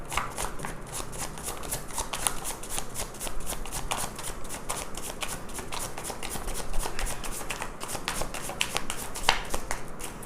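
Tarot cards being shuffled by hand, a steady run of crisp riffling and flicking snaps close by, with no talking.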